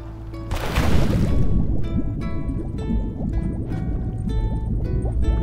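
Water in the Tchia video game, with a close, bubbling, gurgling wash and drips under a faint tonal background and a surge of splashing near the start.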